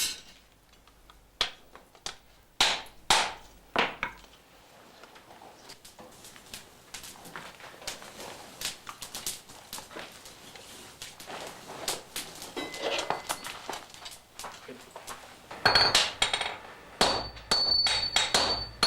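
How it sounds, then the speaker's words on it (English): Heavy 10-kilo hammers strike red-hot steel on an anvil at a Japanese swordsmith's forge in short bursts of a few ringing impacts, separated by quieter stretches of shop noise, with a sharp flurry near the end. "his disciples hammer it flat using 10-kilo hammers"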